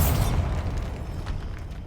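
Bombarda explosion spell in Hogwarts Legacy, a loud, deep booming blast that rolls off over about two seconds with crackling debris.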